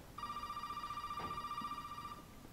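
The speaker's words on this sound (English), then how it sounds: "No, it's a phone." A telephone rings in the horror video game Resident Evil 7, one sustained electronic trill lasting about two seconds over a low, quiet background hum.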